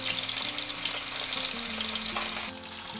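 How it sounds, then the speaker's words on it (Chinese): Fish head pan-frying in hot oil until golden, for a shacha-flavoured sandpot fish head dish; a steady, close, crackling sizzle runs throughout with no talking. "煎到金黄就可以翻面了"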